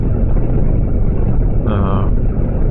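A Yamaha FJR motorcycle being ridden, a loud steady engine drone mixed with wind rush, continuous and close throughout the brief stretch.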